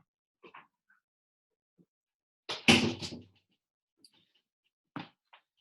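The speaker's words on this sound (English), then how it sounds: "One sec, so I'll shut this door." A door swings shut with a short, solid thud, with a few faint knocks and shuffles before and after.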